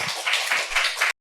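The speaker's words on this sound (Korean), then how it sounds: "우리 하나님 박수" A church congregation claps during a Monday revival service, a steady rhythmic round of many hands clapping together for about a second before cutting off abruptly.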